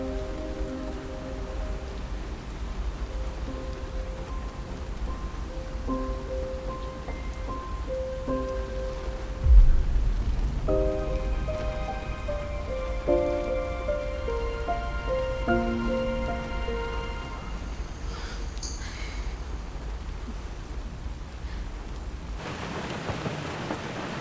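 Steady rain falls on a surface, a continuous even hiss lasting the whole stretch with a low thunder rumble midway, under soft melodic music and no talking.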